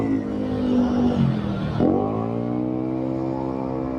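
Busy road traffic near a market with bikers weaving through, a motor engine rumbling close by with a falling then rising pitch sweep as a vehicle passes or revs, continuous and fairly loud.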